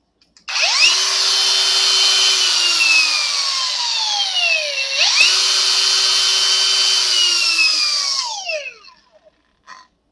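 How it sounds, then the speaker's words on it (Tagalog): An INGCO 115 mm angle grinder (CAGLI2011582) runs loud and steady for about eight seconds, its whine dipping and rising once mid-run before winding down, with no voices. "Gumagana yan kapag naka-power on yung grinder."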